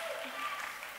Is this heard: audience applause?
yes